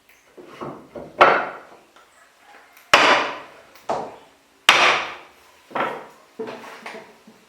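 A band saw blade being mounted on a saw-setting machine, with sharp metallic clanks and knocks at irregular intervals and quieter handling rattles between them, close and loud.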